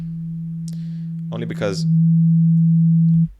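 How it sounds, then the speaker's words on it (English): A steady, pure synthesized sine wave tone, made from a filtered saw wave, hums continuously, briefly interrupted by a short spoken phrase, then carries on alone before cutting off abruptly. "this is a saw shape that's turned into a sine wave."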